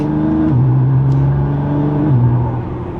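Nissan R35 GT-R in automatic mode accelerating hard, a loud rising engine drone with a gear change midway and another near the end, no talking.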